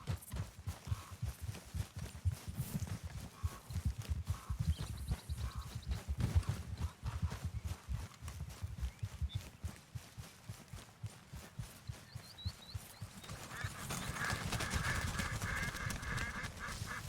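Horse hooves clip-clop in a steady, fairly quiet rhythm in the open-world Western game Red Dead Redemption 2, continuing throughout with a rising wash of ambient noise near the end.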